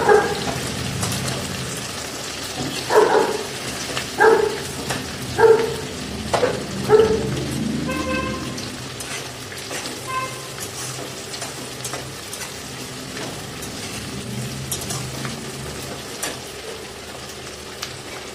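Onions, green chillies and chopped garlic fry in a pan, loud and close, with a run of rhythmic stirring scrapes over the sizzle early on, then a steadier crackling fry that continues on its own.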